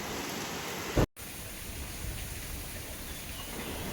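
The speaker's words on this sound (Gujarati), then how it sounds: "વરસાદ હજી કાલ જેવો કન્ટિન્યુ ચાલુ છે" Steady rain in the hill station of Mahabaleshwar in the morning, a continuous even hiss with no voices, broken by a brief dropout about a second in.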